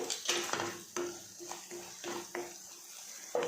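A spoon clinks and scrapes against a pan as pav bhaji masala is stirred into an onion-tomato base in oil, making repeated sharp metallic knocks at an irregular rhythm, fairly quiet and close.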